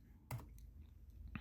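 A few sparse, soft keystrokes on a computer keyboard while HTML form code is entered, close but quiet clicks over low room noise.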